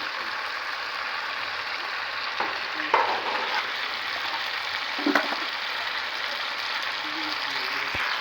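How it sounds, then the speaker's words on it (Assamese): Mustard greens go into a hot pan while chicken cooks, and a steady sizzle and hiss carries on throughout with a few light scrapes and clinks of stirring. "এতিয়া মই ৰেডি কৰি ৰখা লাই শাকখিনি এড কৰি দিম"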